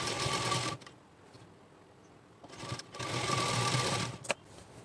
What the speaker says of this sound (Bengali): এবারে আমি মুখের কাপড়টিকে সেলাই করে নেব।